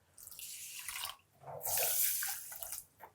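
Water from a measuring cup pours onto uncooked rice in a pot, in two soft splashing pours with a short pause between them, quiet and close.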